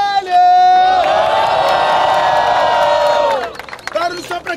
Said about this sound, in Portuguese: Barulho só pra quem achou que foi WL!